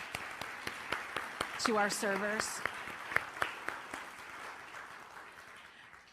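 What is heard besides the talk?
applause for volunteer servers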